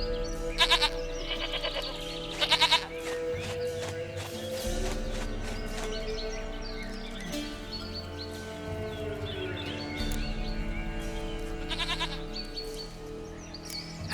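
In The Witcher 3: Wild Hunt, a goat bleats repeatedly in short, loud wavering calls over steady game music, with several distinct bleats spaced across the scene.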